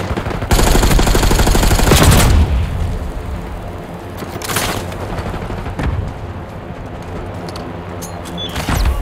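Dense game gunfire and booms from Call of Duty Black Ops 6 Domination on the Babylon map, with a concussion grenade burst amid sustained automatic fire, loud and close, with layered explosions and rattling shots throughout.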